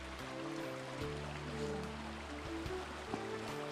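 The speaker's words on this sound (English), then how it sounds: "The Brook is probably one of the better known Dartmoor streams." A Dartmoor brook flows steadily in an autumn woodland, its broad, continuous rushing and babbling water close by and filling the scene without pause.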